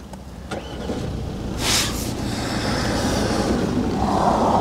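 Diesel engine of an Audi A6 40 TDI starting: a short electric whir, then the engine catches and settles into a steady low idle heard from inside the car.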